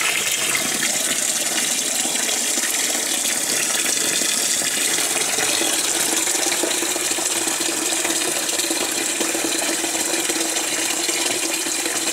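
A phone sinks beneath the water and records there, picking up a continuous, loud gushing and bubbling underwater wash that stays steady throughout with no voices.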